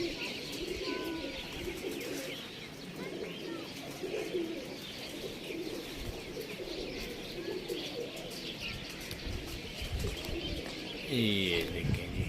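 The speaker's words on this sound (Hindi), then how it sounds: "साथ में अपने भी काफ़ी कबूतर बैठे हुए हैं" Pigeons coo softly and repeatedly among scattered chirps, with someone talking over the birds and a brief flutter near the end.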